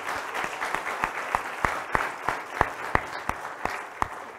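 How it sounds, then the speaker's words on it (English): Church congregation giving a hand clap of praise during a morning service, heard as sparse, fairly faint individual claps at irregular intervals in a reverberant hall rather than full sustained applause. "we ought to give the Lord a hand clap of praise for that this morning"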